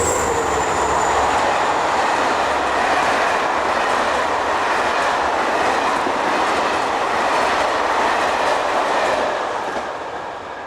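An SNCF class 72000 diesel locomotive, number 72038, hauls a passenger train from Paris to Basel past the listener, a loud, steady rush of wheels with rhythmic clatter that fades toward the end.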